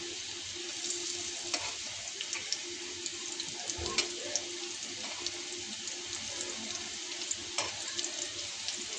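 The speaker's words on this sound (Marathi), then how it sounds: "मस्त एकदम कडक लाल ब्राऊन कलर येईपर्यंत तळून घेऊया" Potato vadas deep-frying in hot oil until crisp and brown, giving a steady close sizzle and bubbling with scattered crackles and a few faint utensil knocks throughout.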